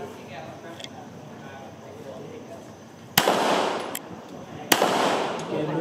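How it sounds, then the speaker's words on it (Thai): Three sharp pistol shots fired left-handed during police shooting training under pressure, each a loud crack with a reverberant tail, spaced about a second or so apart, with faint outdoor background chatter before them. "ยิงด้วยมือข้างซ้ายครับ นัด"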